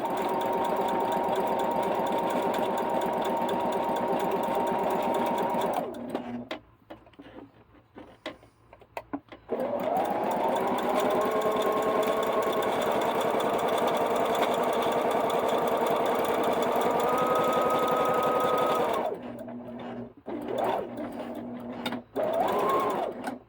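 A sewing machine hems a short section of a T-shirt sleeve, its steady close motor drone running for several seconds, pausing briefly, then starting again for a longer run that shifts pitch near the end before stopping.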